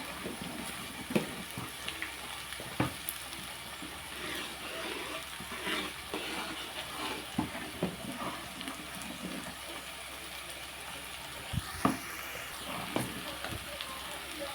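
Popu tempering spices sizzling in oil on a low flame, a steady broadband crackle and hiss with scattered sharper pops throughout, while a voice talks over it intermittently.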